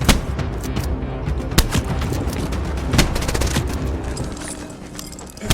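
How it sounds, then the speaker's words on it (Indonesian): A gunfight in a 2023 action film, with dense bursts of machine-gun fire and sharp shots crackling over a heavy, booming low rumble, loud and continuous throughout with no speech. "baku tembak pun akhirnya terjadi."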